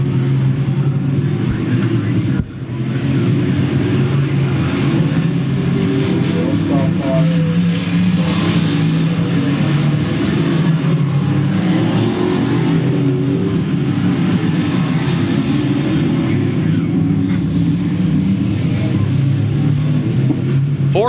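Outlaw figure 8 race cars at Louisville Motor Speedway roar in a dense, continuous engine drone with rising and falling passes, heard from a distance with crowd and track ambience throughout.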